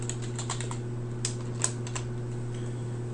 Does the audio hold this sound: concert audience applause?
no